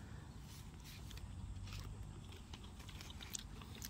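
Biting and chewing into a garden-grown apple watermelon split open from overripening, a steady wet crunching mastication close up with no talking, continuous through the whole stretch.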